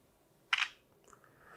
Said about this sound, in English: test out the rear-facing camera, the shutter